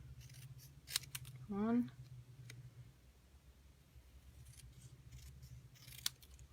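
Scissors trimming a paper craft card, one short crisp cutting snip close up between quiet counting speech and faint paper rustle.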